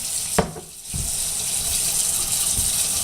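Hot water runs from a tap and splashes into a container in a kitchen, a continuous gushing hiss that stays close and steady after a brief clunk.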